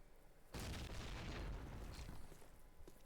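In Call of Duty United Offensive multiplayer, grenades go off as a sudden deep blast followed by a long rumbling roar that gradually fades, fairly distant and muffled.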